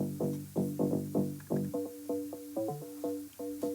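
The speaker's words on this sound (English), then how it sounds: "to add more to it, I added a pluck sound to make it more interesting" Muffled tech house bass notes pulse in a steady rhythm, then a brighter pluck synth joins with short repeated notes on top, forming a quiet looping electronic pattern with no voices.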